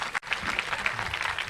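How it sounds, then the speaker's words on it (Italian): An audience claps at a talk about the Tharros giants of Sardinia, with a brief, moderate patter of hands that stays fairly quiet and close, with no talking. "Minimo un applauso."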